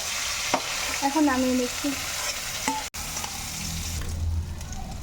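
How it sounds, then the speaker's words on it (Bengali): Hilsa fish pieces rubbed with turmeric and salt sizzle steadily in hot oil in a wok, with stirring clatter throughout and a brief voice speaking near the middle. "মাছটা ভাজা হয়ে গেছে"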